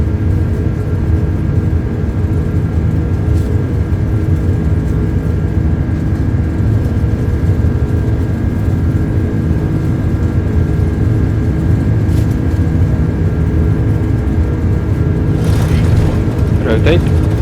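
Airbus A330-300 airliner engines at takeoff thrust in Microsoft Flight Simulator 2024 give a loud, steady, deep roar with a constant hum that fills the whole stretch without letup.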